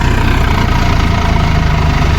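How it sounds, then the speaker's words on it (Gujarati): A loud, steady tractor engine drones close by during paddy threshing on a farm, its low rumble constant and unbroken throughout. "હવે ટ્રેક્ટર જાય છે દેખાડું તમને"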